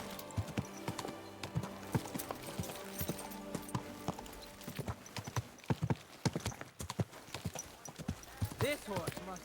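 Horse hooves clip-clop steadily on the ground in Kingdom Come Deliverance 2, close and rhythmic, with occasional whinnies and a voice talking over the footfalls.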